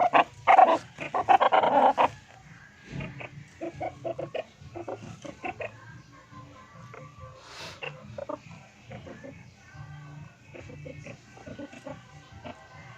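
Chickens of mixed plumage colours cluck and squawk nearby in a busy farmyard, with scattered calls, a louder burst at the start and other animal noises mixed in.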